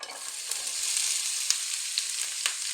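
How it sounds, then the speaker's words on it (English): Onion and pepper fry in warm oil over medium heat, a soft continuous sizzle and crackle with a few sharper pops and light stirring, fairly quiet and close, no voices. "I am going to add the onion and pepper and cook it for 3 or 4 minutes"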